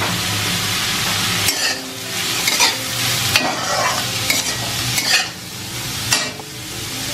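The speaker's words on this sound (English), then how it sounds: "Now all the veggies go in, so carrots and beans." Carrots and beans stir-frying in a hot pan: a steady loud sizzle runs throughout, broken by repeated scraping stirs roughly every second, with no talking.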